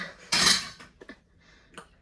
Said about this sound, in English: I'll just have to cut a small piece out for it to fit